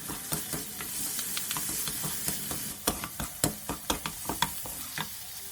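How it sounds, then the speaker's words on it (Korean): Chopped pickled radish and ham stir-fry in oil with salt in a pan over medium heat, a soft steady sizzle broken by a run of sharp spatula scrapes and clacks that grow denser toward the end. "다진 재료들은 팬에 기름을 둘러서 소금 좀 넣어준 뒤 중불로 달달달 볶아주세요"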